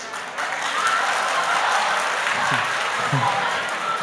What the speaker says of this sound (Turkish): Fisagor dershanesinden alkışlar duydum.